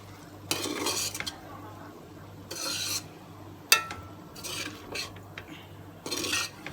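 Chicken vegetable macaroni stirred in a pan, a spoon scraping and clattering against the metal in several separate bursts with a sharp clink near the middle, close up and with no talking.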